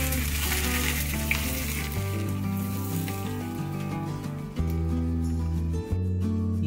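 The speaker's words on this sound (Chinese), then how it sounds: "加上啲芫荽同埋葱，然後就燒油鍋煎熟油" Hot oil poured over steamed grey mullet topped with coriander and scallion crackles in a loud, sustained sizzle, with background music underneath.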